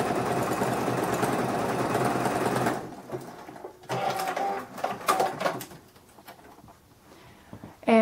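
Juki F600 sewing machine stitching fast, a loud rapid whirring run for about three seconds that then breaks into shorter bursts and pauses.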